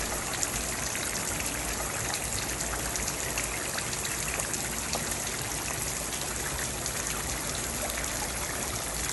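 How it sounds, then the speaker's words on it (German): Forest spring water at the Paulinenquelle in Germany gushing strongly from a fountain-like outlet, a dense, unbroken rushing splash that stays loud and close from start to finish. "Wieso sprudelt es hier so kräftig?"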